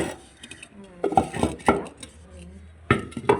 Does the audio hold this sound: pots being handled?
yes